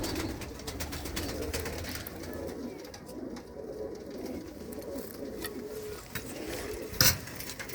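A tall, well-built pigeon kept by a fancier coos in a low, continuous rolling murmur close by, steady for several seconds, with a brief metallic clatter near the end.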